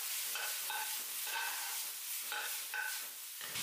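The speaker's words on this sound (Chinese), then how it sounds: "倒入青椒丝，继续翻炒翻炒" Shredded potato and green pepper sizzle loudly in a hot wok with garlic and dried chili, while a spatula scrapes and tosses them in quick, repeated strokes.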